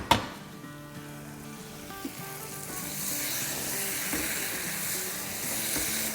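Food sizzles and fries steadily on a hot tawa over a medium flame, a continuous crackling hiss that grows slightly louder midway, with no voices.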